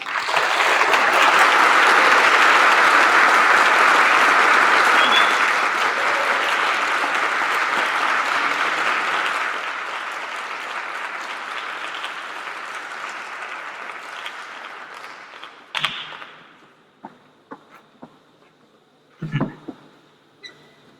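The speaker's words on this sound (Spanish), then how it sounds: "Recibámoslo con un afectuoso aplauso" An audience at the opening of an academic public-administration congress gives sustained, dense applause that fades after about ten seconds into scattered claps, thumps and small noises.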